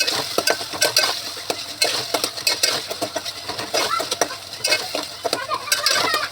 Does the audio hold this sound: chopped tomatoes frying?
yes